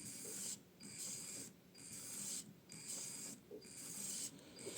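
A LEGO WeDo 2.0 compass robot's motor runs a program, giving a faint mechanical whirring and grinding in repeated bursts with short pauses between, close and without speech.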